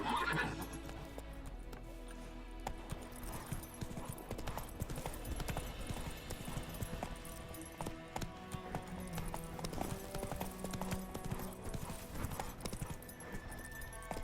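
A horse gallops in The Witcher 3 video game, rhythmic clip-clop hoofbeats running steadily throughout with occasional neighs and snorts over a game soundtrack bed.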